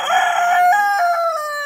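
A black rooster crows once, loud and close, a single drawn-out call that tapers off.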